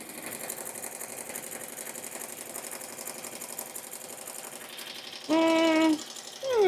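An embroidery machine sews satin stitches for an in-the-hoop cover, a steady rapid mechanical chatter throughout, then a brief louder beeping tone near the end.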